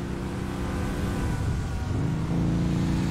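Trucks passing by in GTA V Online, a steady engine drone with a low tonal hum that shifts pitch midway as one vehicle goes past, with a louder surge toward the end.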